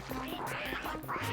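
Demented ducks in the Breakout video game quack repeatedly in short, nasal bursts over a busy layer of game sound effects, loud and close with no pauses.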